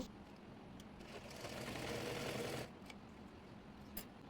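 Sewing machine running briefly at close range as it stitches the shoulder seam of a girl's chemise, a soft quick whir rising for about a second amid faint room noise and small clicks.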